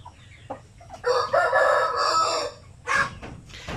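A shamo aseel rooster crows close by, one long drawn-out cock-a-doodle-doo followed by a shorter second call, with faint clucks before it.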